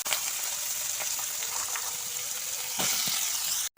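Green chilies, pumpkin and potato hit hot oil in a pan, setting off a loud, continuous sizzle with small crackles and a surge of spitting partway through before it cuts off.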